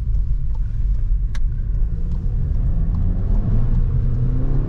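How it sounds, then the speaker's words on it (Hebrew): A newly acquired Subaru being driven home and given some throttle, a loud, steady low engine drone and road rumble from inside the car that holds constant without a clear rev rise. "נותן קצת גז, מנסה את הסובארו החדשה"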